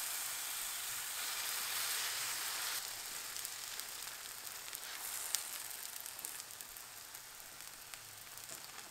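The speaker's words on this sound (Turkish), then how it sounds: "Ve orta ateşte lavaşımızı pişirelim." Lavash flatbread batter sizzles in a pan over medium heat, a steady close hiss that is brighter in the first few seconds, then settles into a softer frying crackle with scattered pops.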